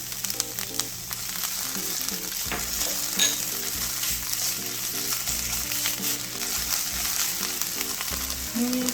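Diced onion and minced garlic stir-frying in a pan for a keto chicken noodle soup, a steady sizzle running throughout, with faint scraping and stirring sounds and a light musical backing, no talk.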